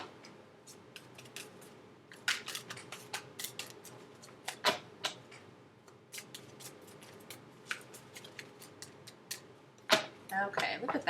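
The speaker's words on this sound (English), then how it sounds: "Two more shuffles." Crisp, rapid riffling and flicking of cards, in bursts with short pauses between them, close up and fairly quiet.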